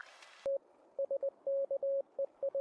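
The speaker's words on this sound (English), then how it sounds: "It's just like him talking and the Morse code going." Morse code beeps in a game, a steady mid-pitched tone keyed on and off in short and longer pulses with irregular rhythm, clear and alone after a brief burst of noise.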